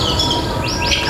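A white-rumped shama (murai batu) sings close by, loud, with bright rising whistled phrases and chirps over a steady background hiss.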